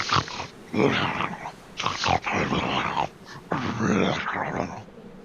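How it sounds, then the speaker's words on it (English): A cluster of growls and snarls from several creatures, rough and close, comes in three loud bursts separated by short pauses. "hear faintly carried to you over the wind a cluster of growls and snarls."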